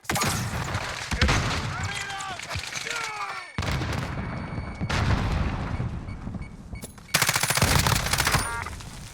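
Dense automatic and single gunfire bursts in a Warzone battle, loud and close, with several pauses and a heavy final volley; game voice callouts come through between the shots.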